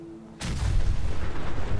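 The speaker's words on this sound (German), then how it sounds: "die Explosion sah jetzt relativ cool aus." A deep, booming explosion in the Fallout 4 video game erupts suddenly after a quiet moment, then rolls on as a loud, rumbling blast with no talking.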